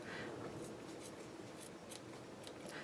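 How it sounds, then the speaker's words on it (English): Scissors snip off linen thread while a lacy tea bag holder box is made, several soft, quick cuts spaced about half a second apart, close but faint, no talk. "I'm just going to snip that off"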